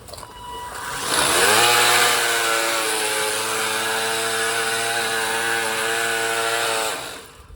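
A Ryobi sweeper attachment on a gas weed whacker power head revs up over concrete, a loud sustained two-stroke whine holding steady for several seconds before easing off, nearby, with no talk.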